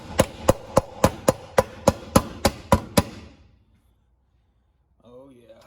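Eleven sharp, evenly spaced metallic hammer blows strike a bar to drive a seized piston out of a Briggs and Stratton 5-horsepower Quantum engine. Silence follows, then a faint voice at the end.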